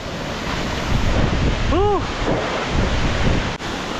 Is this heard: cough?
no